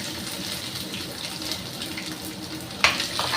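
Finely chopped ginger sizzles in hot oil in a pan with plenty of curry leaves. The frying hiss is steady and fairly quiet, with a light clink near the end.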